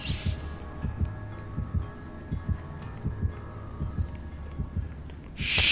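Heavy, steady heartbeat thuds from the killer's terror radius in the horror game Dead by Daylight, double-pulsed at an even pace under a low droning hum, with brief hiss bursts at the start and end.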